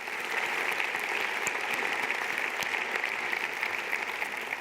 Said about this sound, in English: Applause for Angelica